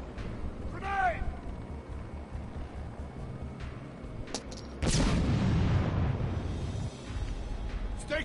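A grenade explodes in a video game with a sudden loud boom around the middle, followed by a rumbling tail, after shouting voices and game ambience.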